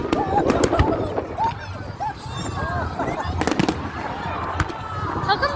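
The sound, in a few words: fireworks exploding at a firework display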